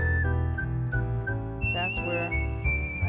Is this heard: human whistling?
yes